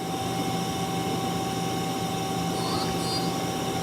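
A 2005 Mazak Nexus 250MS lathe with its main spindle turning at 1,000 rpm, giving a steady, quiet mechanical whir with a faint tonal hum and light talk underneath.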